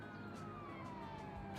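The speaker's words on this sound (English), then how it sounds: "Sirens going off." Emergency sirens wailing in a city-building game, a continuous rising and falling tone over a dense hum of traffic and city ambience, moderately loud and steady throughout with no talk.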